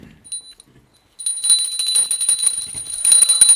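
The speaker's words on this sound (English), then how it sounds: "please ring the bell as you do so" Small hand bell rung repeatedly during the Aratrikam lamp offering at a Hindu darshan, a bright sustained ringing with steady jingling strokes after a brief quiet start.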